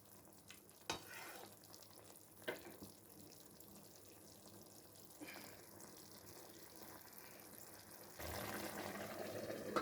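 Watermelon rind stir-fry with turmeric cooks in a pan on a high flame, then gets covered: a steady close sizzle with a few sharp clatters of the utensil and lid, growing louder toward the end.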